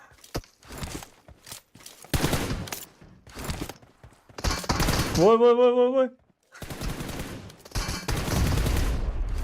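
Pistol gunfire in a PUBG Mobile team deathmatch: sharp bursts of shots in quick clusters, recurring across the clip and mixed with a commentator's talk.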